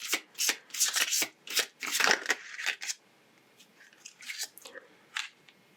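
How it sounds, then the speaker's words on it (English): Tarot cards are shuffled up close in quick papery bursts, loud and busy at first, then thinning to sparser, softer riffles, with no one speaking. "I shuffled these cards so much"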